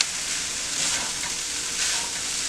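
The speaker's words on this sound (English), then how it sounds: "So really, we just want to really mix things together." Vegetarian fried rice and vegetables stir-fry over high heat, making a loud, continuous hissing sizzle close by that swells slightly as the food is tossed, with no speech.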